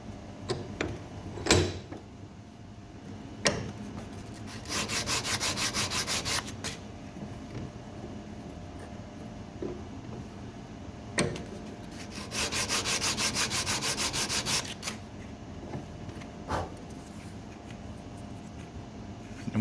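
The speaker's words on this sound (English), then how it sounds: "sand off the top and bottom to make them nice and smooth" Oak timber is hand-sanded smooth on its top and bottom faces, heard as rhythmic rasping strokes in two longer bursts, separated by quieter pauses and a few sharp knocks.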